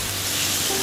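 Onions stir-fry in a pan for shrimp curry, giving a constant, close, bright hiss of sizzling oil over a brief moment without speech.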